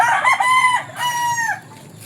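A rooster at a gamefowl farm gives a loud, close crow in two drawn-out rising and falling phrases, with no talk over it.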